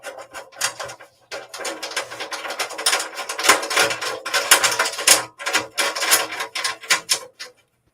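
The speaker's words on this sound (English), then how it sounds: "Now we can take our lug and we can screw this right on" An electrical lug is spun by hand onto a threaded stud, giving close, irregular metallic scraping and ratcheting clicks in uneven bursts across several seconds, with short pauses and no talking.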